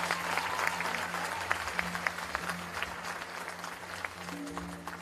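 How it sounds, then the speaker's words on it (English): A round of applause from a school audience, steady scattered clapping at moderate distance with a soft tonal hum underneath. "Can we have a round of applause,"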